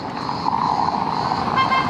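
Steady road traffic by a beach promenade in Konyaaltı, Antalya, a continuous hum of passing cars and trucks with a brief horn toot near the end, fairly close and unbroken throughout.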